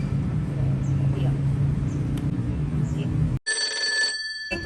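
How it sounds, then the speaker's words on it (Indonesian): A telephone starts ringing abruptly partway through, a bright electronic ringtone of steady high tones that replaces the low indoor room hum heard before it. "Tunggu guys, ada telepon."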